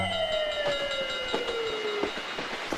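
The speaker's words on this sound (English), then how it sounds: "Clickety-clack, clickety-clack, the red train car chugs down the track" A red toy train chugs along its track with a rhythmic run of clickety-clack clicks. A sustained whistle tone slides gradually downward over the clicking, and the whole sound is close and clear.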